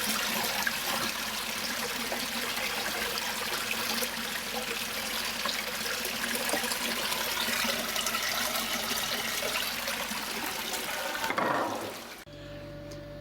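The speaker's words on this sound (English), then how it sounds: "It's dripping down there, and it's something to do with the seal here." Steady trickling water from a leaking grow-on tank bottom drain with a faulty seal runs continuously at close range, a constant wet splashing that stops abruptly near the end.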